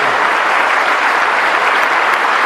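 Loud, sustained clapping from a church congregation applauding to God, a thick unbroken wall of hands filling the whole stretch without a pause.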